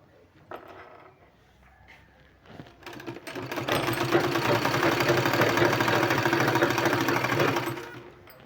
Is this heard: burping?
no